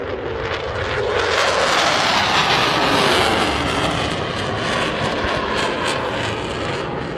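A Typhoon jet flying a display at the International Ayr Show in 2023 produces a loud, continuous engine roar that swells and holds steady throughout, with no voices.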